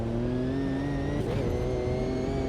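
A 1998 Le Mans GT1 race car in a racing game mod, driven with sequential shifting, holds a loud, steady engine drone with strong harmonic whine, briefly wavering mid-run before it continues at high revs.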